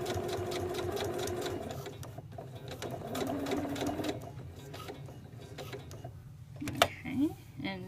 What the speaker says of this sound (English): And now we're going to be sewing the top.